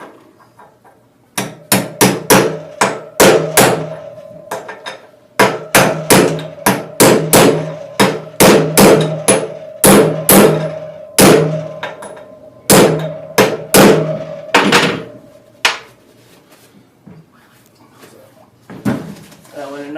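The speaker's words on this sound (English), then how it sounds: "you don't want to be beating on the bearing and destroying the bearing" A socket is hammered to seat a wheel bearing: sharp metallic blows come in quick bursts and rhythmic runs with short pauses, loud and close, and speech is heard at times.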